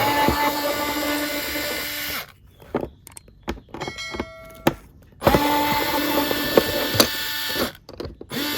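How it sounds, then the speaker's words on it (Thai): Hand unscrewing of the small screws on a suitcase's TSA combination lock with a Phillips screwdriver: scattered light clicks and scraping taps, separated by louder stretches of broadband noise. "ตัวนี้ก็ใช้ไขควงแฉกนะครับ ผมก็ใช้ไขควงไขออก"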